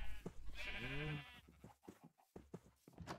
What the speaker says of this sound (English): It's magical floating sheep.